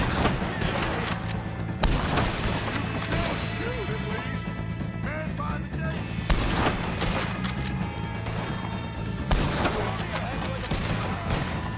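Gunfire in the Red Dead Redemption 2 video game, with several loud cracking shots over a dense, continuous game soundscape of rumbling and clatter. Some speech-like sound is mixed in.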